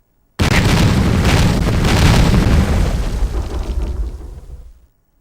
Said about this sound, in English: You can drop grenades on him.